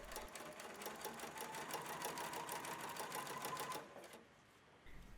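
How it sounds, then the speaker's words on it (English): Sewing machine with a twin needle stitching Lycra swimwear, a fast, even run of stitching for about four seconds before it stops, close and moderately loud. "So for the final stitching, using the twin needle, sew as before."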